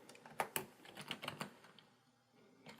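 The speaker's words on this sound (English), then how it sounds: "We'll go ahead and create a new text layer, and on it we will type Hugo" Quiet, irregular keystrokes tap on a computer keyboard, a short burst of close clicks that trails off into near silence.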